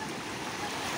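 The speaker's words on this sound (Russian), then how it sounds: "Немножко море штормит." Stormy Black Sea surf under an overcast sky, a steady broadband wash of waves and wind noise filling the whole second without clear breaks or voices.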